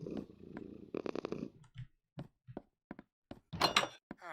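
A pet cat in Minecraft purrs after being fed a fish, a soft rumbling purr followed by several short scattered knocks and thuds, ending in a brighter burst.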